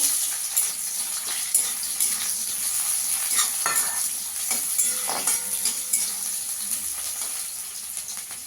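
Chopped onion fries in a cumin tempering, a constant close sizzle and hiss broken by scraping stirs and the clatter of a spoon against the pan.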